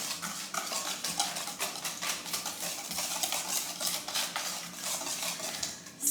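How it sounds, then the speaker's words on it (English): A whisk beats pumpkin creme brulee custard mixture in a bowl, a rapid, continuous metallic clicking and scraping rhythm that stays steady and close throughout, with no voices. "you really want to whisk pretty good. Make sure it's really blended"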